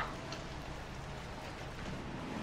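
Steady rain hisses in Little Nightmares, a soft, constant patter that stays faint and even throughout with no other sounds.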